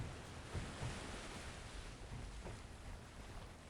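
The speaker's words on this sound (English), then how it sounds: "Get to hear the nice splashy water sounds down here." Splashing water in the video game Ares at War, a rough, continuous wash of churning water like surf, fairly quiet and steady with a few small surges.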